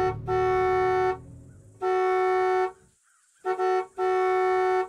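A car horn blares inside a closed garage in several long honks separated by short gaps, loud and close, the last blasts coming in quicker bursts.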